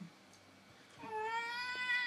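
A cat meows once in the visual novel game If My Heart Had Wings, a single rising, drawn-out call after a quiet moment, clear and fairly close against a low background hum.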